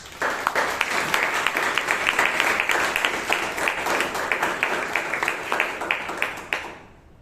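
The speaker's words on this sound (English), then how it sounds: "Let's give her a round of applause." A crowd at a Toastmasters club meeting claps steadily in a dense, sustained round of applause, fairly loud, fading out at the end.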